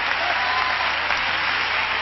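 A church congregation bursts into steady, dense applause in a 1991 revival service, loud and continuous with a slight swell partway through and a few faint voices mixed into the clapping.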